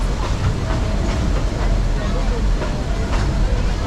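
Dixiana, a 111-year-old geared 1912 steam locomotive climbing a steep, winding mountain railroad among redwoods, gives a steady, loud rumble and rhythmic chuffing, with a voice talking over it throughout.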